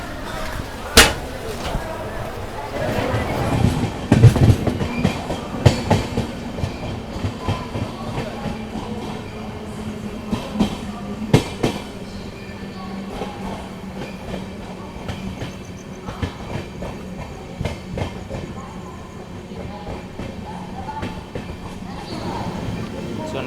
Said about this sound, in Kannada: ನಮ್ಮ ಟ್ರೈನ್ ಆಲ್ರೆಡಿ ಮೇನ್ ಲೈನಿಗೆ ಬಂದು ಪಿಕಪ್ ಮಾಡೋಕ್ಕೆ ಸ್ಟಾರ್ಟ್ ಆಗ್ತದೆ